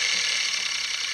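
Electric piano motor running after reassembly, a steady high-pitched whir and hum that holds evenly at close range with no voices.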